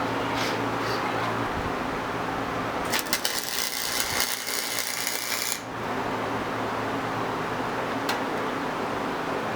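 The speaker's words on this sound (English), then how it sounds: "we just kind of did one weld on each corner" Metal tubing at a corner joint of a homemade go-kart frame is welded, giving a harsh crackling buzz for roughly three seconds in the middle, close by, against a steady background hum.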